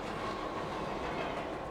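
A subway train in The Urbz: Sims in the City video game rumbles past with steady broadband roar and faint clickety-clack, loud and continuous throughout with no talk.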